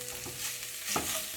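A vegetarian meat substitute browning in a hot pan, steady close sizzling with a couple of scraping stirs across the surface.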